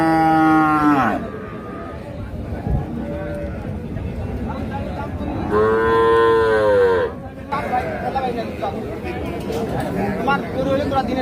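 Cows at a busy rural cattle market in Dinajpur, including a young dairy cow, giving two loud, long, close moos over constant crowd babble and nearby voices.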